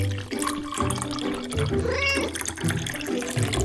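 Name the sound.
cat meowing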